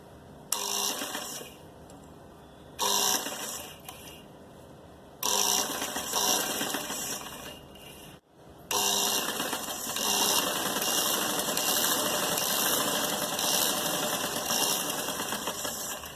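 Sewing machine running a straight seam along a kameez sleeve, several loud bursts of mechanical whirring separated by short pauses, then a longer steady run close by, with no talking.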